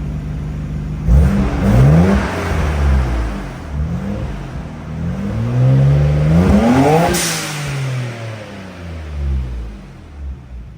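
A Nissan Skyline R34 GTR V-spec fitted with a Tomei titanium exhaust idles and revs loudly nearby, its deep engine note rising and falling through several throttle blips with no talk over it.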